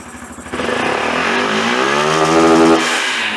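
A Hero XPulse 200 4V motorcycle engine idles roughly, then revs up into a loud, steady rising drone with an airy intake rush from the air filter before easing back slightly.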